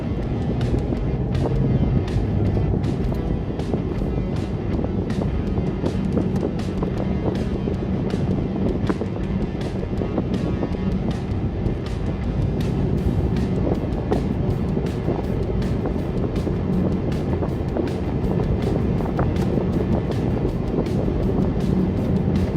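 A car rolls along on Kinforest KF550 UHP tires with a steady, loud road rumble and buffeting wind noise that holds unbroken from start to finish, with no voices.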